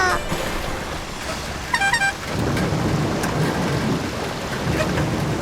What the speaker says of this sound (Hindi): इस मौसम में क्या टॉमी बारिश में भीगकर तुम्हारा इंतजार करेगा?